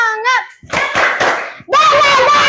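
Children in a classroom do a rhythmic spirit clap together, a quick burst of a few sharp claps in a pattern, with a voice before and sustained young voices after.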